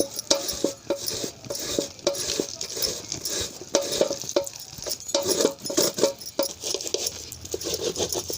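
Ripe palm fruit pulp is scraped and pressed through a mesh sieve bowl over a plate, giving repeated close scratchy, wet scraping strokes with light metallic taps, no talking.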